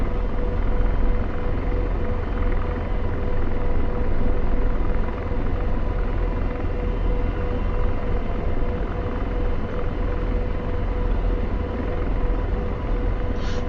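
An AH-64 Apache helicopter in flight gives a steady, loud rotor and turbine rumble with a constant whine running through it, unbroken and close throughout.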